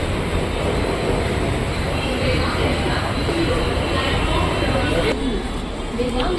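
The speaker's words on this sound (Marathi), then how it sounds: "बघा ट्रेन आले आणि ट्रेन पकडून आता आपण जायचं आहे दादरला" Suburban train pulling into a platform on the way to Dadar, a loud, steady rumble and rolling roar throughout, with people talking over it.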